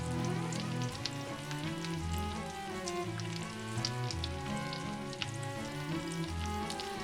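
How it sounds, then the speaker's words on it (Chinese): Beef seasoned with black pepper and sea salt sears in a pan, giving a steady, dense sizzle with crackling pops that continues evenly throughout, with no voices. "现在开始煎牛肉吧。"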